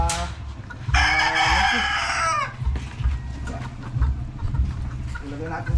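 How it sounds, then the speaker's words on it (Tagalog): A rooster crows loudly and close by while hens cluck around it in a farm yard, with someone speaking briefly among the birds. "Nagre-react yung mga ibang manok."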